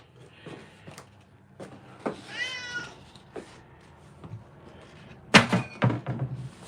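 A cat meows a few times, one longer rising call in the middle, among sporadic thumps and knocks from handling nearby.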